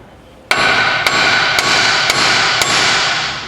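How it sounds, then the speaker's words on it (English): Five sharp metallic hammer strikes on a car CV axle ring out at a steady, roughly half-second pace, each cracking hard over a loud continuous mechanical hum. "we're gonna hit this part and this part alone by a hammer."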